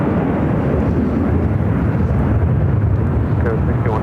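Airliner taking off from runway 25 right at Phoenix airport, a loud, sustained low engine roar with rumbling wind buffeting, heard continuously under faint radio chatter.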